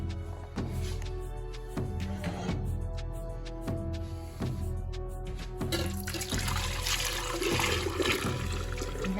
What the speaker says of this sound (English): We're going to pour this into the container that we'll be using.